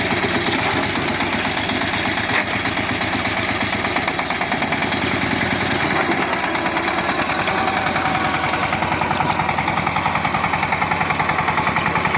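An ACI hybrid farm vehicle's engine runs steadily while ploughing a field, a loud, continuous rhythmic chugging and rattling drone with no letup.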